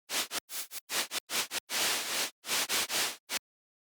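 Raw dubstep synth bass patch with no filters or effects, sounding as loud, harsh, noisy bursts in a choppy rhythm of short and longer notes, close and alone, ending abruptly.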